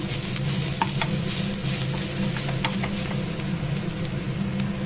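Chicken chukka fries in a pan while a spoon stirs it, a steady close sizzle with scattered scraping clicks from the stirring, no voices over it.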